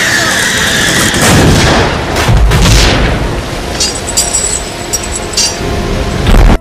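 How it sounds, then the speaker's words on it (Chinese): A creature bursts apart under a torrent of cold sprinkler water in the 1992 sci-fi horror film Alien 3: loud booming blasts, cracking and glassy clinks over a dense rushing wash of water, swelling to a final heavy burst. "被淋中的异形也因为巨大的温差身体直接发生了爆炸"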